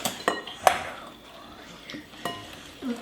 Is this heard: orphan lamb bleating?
no